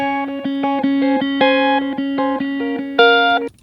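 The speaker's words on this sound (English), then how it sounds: "let's say, this clean electric guitar," A clean electric guitar in a studio mix plays a run of separate plucked notes, each ringing briefly with steady level before the next, ending on a louder, higher note that cuts off sharply.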